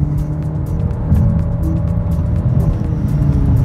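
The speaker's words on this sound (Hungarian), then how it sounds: "Gyorsulás." A BYD Seal U DM-i plug-in hybrid SUV, 26.6 kWh Comfort version with 218 HP, accelerates, heard from inside as a steady low hum and road rumble that swells slightly as speed builds.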